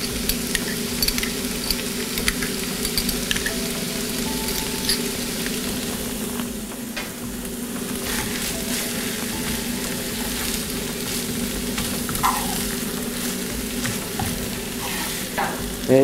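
A mixture frying in a pan as barbecue sauce goes in and gets stirred: a continuous close sizzle runs throughout, with scraping stirs and occasional utensil clicks on top and no talk.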